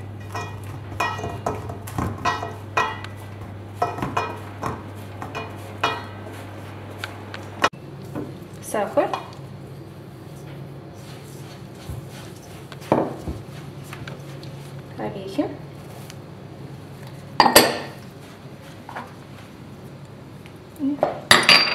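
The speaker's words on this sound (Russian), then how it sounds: "Рублю или же натираю масло с мукой." Butter is chopped into flour by hand in a home kitchen while making cranberry bun dough, giving irregular knife taps and light clinks against a board or bowl over a low steady hum that stops partway through.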